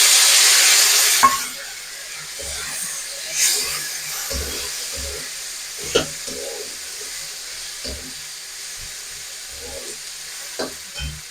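Chopped tomato hits hot oil with onion, ginger and green chilli, giving a loud opening sizzle that settles into a soft hiss, broken by repeated clunking stirs of a spoon in the pan.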